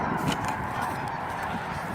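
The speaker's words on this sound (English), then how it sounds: "you can get some geese there" Geese honk repeatedly in short, overlapping calls against steady background noise; the flock sounds fairly close and fills the whole stretch without any speech.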